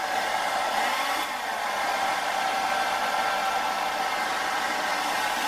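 A heat gun on its hottest setting blows hot air over XPS polystyrene insulation sheet, giving a steady, close airy hiss with a faint motor hum, unbroken and without speech.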